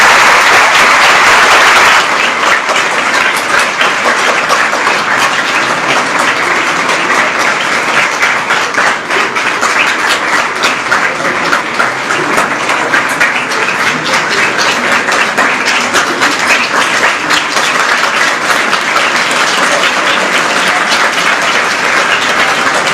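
A theatre audience gives loud, sustained applause after a stage performance of Premchand's novel Rangbhumi, thick dense clapping that rises after a quieter opening and carries on steadily throughout.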